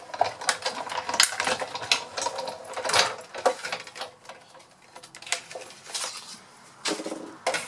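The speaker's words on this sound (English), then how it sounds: "which is just going to die cut the outline of this stocking, and just run that through" A manual die cutting machine rolls a stocking outline through card, giving a close, continuous grinding and clicking rattle with irregular bumps and crackles as the plates pass through the rollers.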